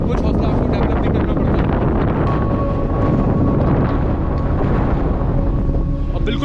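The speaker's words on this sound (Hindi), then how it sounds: "बिल्कुल बर्फीली ठंडी हवा चलना स्टार्ट हो गई है।" Icy cold wind blowing steadily across the Mustang snow desert in Nepal, a loud continuous rush buffeting the microphone throughout, with a faint tonal hum underneath.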